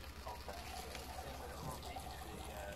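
A bartender pours a drink in an audio video game set in a bar: a faint, steady liquid trickle runs through the short stretch, with low ambient hum and murmuring under it.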